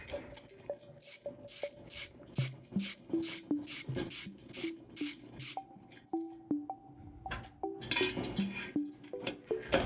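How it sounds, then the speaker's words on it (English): Hand ratchet loosening three 10-32 bolts from the fuel atomizer of an aircraft turbine combustor assembly during a combustion inspection, giving close, rhythmic bursts of fast clicking strokes with metallic knocks and pauses between them. "we can then remove the 3 1032 bolts from the atomizer"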